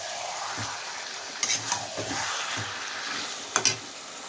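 Spice-marinated chicken cooking in a pan on a low gas flame, a steady quiet sizzle broken by a few scraping stirs and light utensil knocks.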